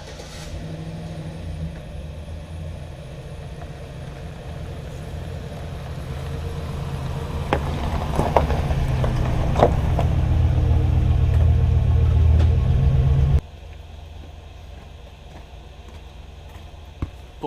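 A pickup truck's engine rumbling at low speed as it pulls up, growing louder and revving slightly before cutting off abruptly, leaving a quiet outdoor background.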